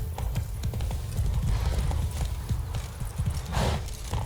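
Roach, a horse in The Witcher 3 video game, galloping with a fast, continuous drumming of hoofbeats, loud and close throughout, over a rumbling low background.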